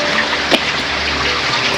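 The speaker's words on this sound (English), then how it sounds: "That must be to fill up your water then, is it?" Water runs steadily into a motorhome's fresh-water tank, a close, continuous trickling rush with one brief splash partway through and no talk.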